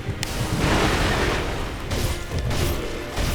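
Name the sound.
firecrackers exploding in video game Sekiro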